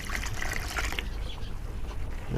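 Water splashes and trickles for about a second as it is poured into goat feed, then a softer wet rustle continues, close by and with no voices.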